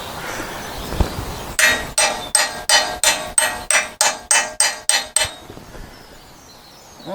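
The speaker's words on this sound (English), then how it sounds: "I just need a hammer and gently, very gently, knock them in" A hammer taps parts into place on a GPz motorcycle in a steady run of about eleven even, close, ringing metallic knocks, with quiet pauses before and after.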